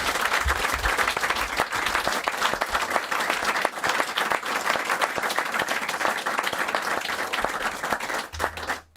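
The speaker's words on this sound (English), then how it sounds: "Give him a big round of applause, Mark Ashton." Studio audience applause for a guest on a football talk show, a dense, steady wash of clapping that stays loud throughout before cutting off abruptly at the end.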